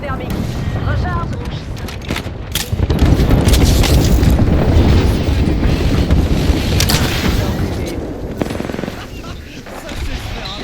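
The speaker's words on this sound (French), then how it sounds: "J'envoie une grenade thermique" A thermal grenade explodes in a video game firefight with a loud, rumbling boom, then sustained blasts and gunfire roll on for several seconds. Voices can be heard beneath the din.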